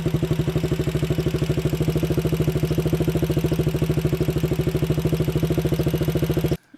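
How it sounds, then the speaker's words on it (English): A Janus Halcyon 250 motorcycle engine runs at a steady idle, with a rapid, even mechanical clatter and a throbbing low hum, close and continuous until it cuts off at the very end. "don't listen to the exhaust note. Listen to the noise coming from the engine."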